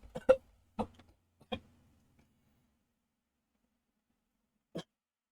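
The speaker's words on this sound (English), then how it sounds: "That ain't even just me coughing from being super stoned." A few short, sharp coughs in quick succession, then a pause and one more isolated cough, fairly quiet with silence between.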